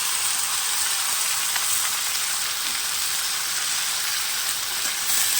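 Taro (baksho kochu) fries with dried fish in a home kitchen pan, giving a loud, continuous, close sizzle and steamy hiss with no speech.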